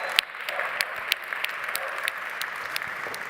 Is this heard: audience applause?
yes